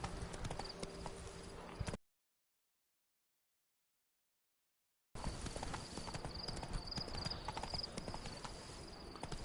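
Roach the horse clip-clops along in The Witcher III, a brisk steady trot of hooves heard in two stretches broken by a few seconds of total silence, with faint game ambience around.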